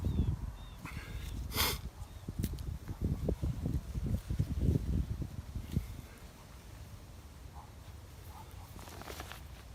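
Dogs barking and yelping outdoors at a distance, a scattered run of excited barks over rustling ground noise that fades toward the end.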